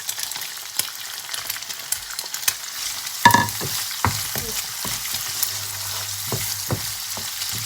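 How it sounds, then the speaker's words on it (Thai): Fresh shrimp stir-fried in a hot pan for Thai fried rice with red chili paste, giving a steady close sizzle with sharp spatula scrapes and clatters that grow busier after a sudden loud toss partway through. "เดี๋ยวเราจะผัดกุ้งไปแป๊บหนึ่งนะคะ"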